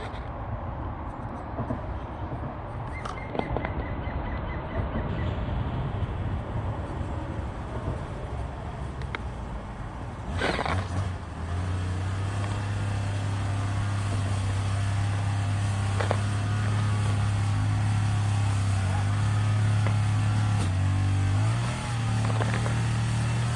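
A modified FTX Mauler RC crawler with rear wheel steer runs fast in reverse, its electric motor giving a loud, steady whine with a sustained low drone from the middle onward, close and continuous.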